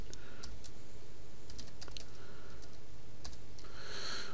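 Someone types values on a computer keyboard in a 3D modeling program, producing a few scattered, light key clicks close by over steady background hiss.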